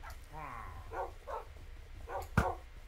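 A Minecraft wolf dog gives several short, close barks and yips in a loose rhythm, with a whining rising tone at the start and a sharp thud near the end.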